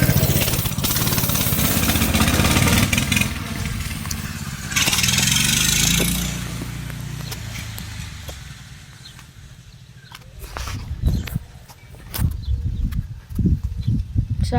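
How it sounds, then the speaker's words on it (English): A minibike engine is pulled and started up nearby, sputtering and revving loudly in bursts before settling and dropping away, followed by scattered handling noises and a few more short revs. "let me get my mini bike started up"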